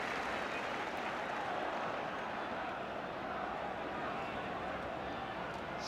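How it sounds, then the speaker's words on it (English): Steady roar of a football crowd cheering at a Spurs versus Liverpool match, broad and continuous, heard from a distance as a dense wash of noise. "Spurs crowd certainly enjoying this one"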